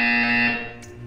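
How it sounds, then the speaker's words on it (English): A loud, sustained electronic buzzer from the video game Portal 2, a harsh tonal drone that holds steady and then fades over about a second. "You will hear a buzzer. When you hear the buzzer, stare at the art."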